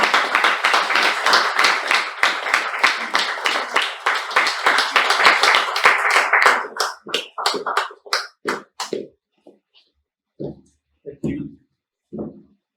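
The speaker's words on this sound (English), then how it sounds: "Give her a round of applause." Toastmasters club members clap for their meeting's presiding officer, a full round of close applause that thins over several seconds into a few scattered claps, followed by a voice speaking alone.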